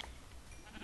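A pig in Minecraft, played on the YogBox modpack, gives one short grunting squeal, close and brief, with no talking around it.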